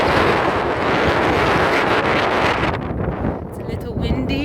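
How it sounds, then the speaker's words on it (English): Strong wind blows across a mountain trail, a loud constant roar of rushing air buffeting the microphone that eases slightly toward the end. "It's a little windy."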